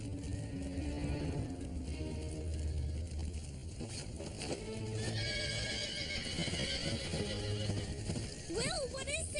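Cartoon horses neigh and whinny in a burning barn, shrill calls over hoof clatter and a busy, loud soundtrack, with voices talking among the commotion.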